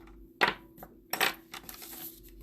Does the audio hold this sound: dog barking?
no